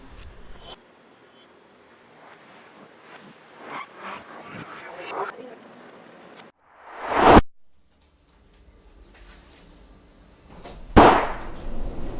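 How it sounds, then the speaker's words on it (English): Two sharp, loud gunshot-like cracks ring out indoors several seconds apart, each followed by a short ringing tail, after a stretch of quiet voices and shuffling. "What was that? Sounded like a gunshot."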